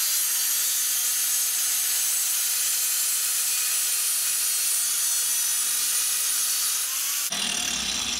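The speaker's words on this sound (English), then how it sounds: "This is just a grinder with a cutoff wheel on it." An angle grinder with a cutoff wheel cuts steadily through a clamped T-fitting, giving a loud, continuous high-pitched whine that holds for several seconds before the pitch and tone shift abruptly near the end.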